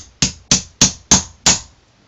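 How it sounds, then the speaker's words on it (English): Five sharp metallic hammer taps driving a pin into an SKS rifle bolt, evenly spaced about a third of a second apart, each ringing briefly before the next. "Then you give that some taps with the hammer"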